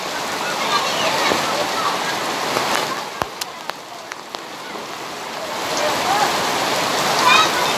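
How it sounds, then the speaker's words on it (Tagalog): Heavy summer rain pours onto a street in a dense, steady hiss, with a few sharper drips and taps cutting through near the middle. "Ito na yung ulan para sa tag-init."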